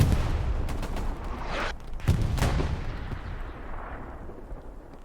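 Artillery shells pound a World War II battlefield in Hell Let Loose, with heavy booming blasts rolling in a couple of bursts before fading into a distant rumble, no voices.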